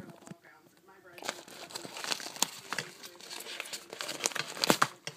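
Crinkling and tearing of a squishy-toy package being opened by hand, with rustling and crunching bursts at close range, while a person talks quietly.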